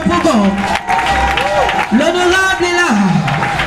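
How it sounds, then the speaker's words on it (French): A crowd at a political rally in Yopougon claps and cheers under a loud announcer's voice over a sound system, and the applause stays steady throughout. "Plus fort que ça, les applaudissements."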